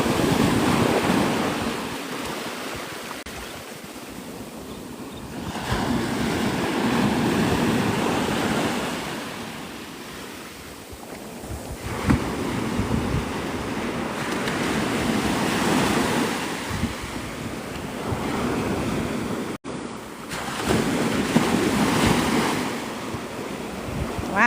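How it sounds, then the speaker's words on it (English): Ocean surf breaks on Navarre Beach, Florida, in slow rolling surges that rise and fade every few seconds, mixed with gusty wind buffeting the microphone and no talking. "Does Lake Michigan get waves like this too?"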